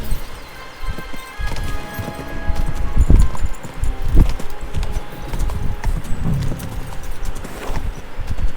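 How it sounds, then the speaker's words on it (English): Horse hooves in Kingdom Come: Deliverance 2 clip-clop in an uneven gallop, with a few heavier thuds and a steady background hum, no voices. "This is the black horse."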